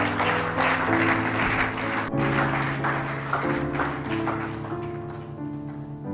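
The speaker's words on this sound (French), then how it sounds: "Acclame Jésus de Nazareth." Church congregation applauding and clapping steadily, with sustained worship music and organ-like chords sounding underneath throughout.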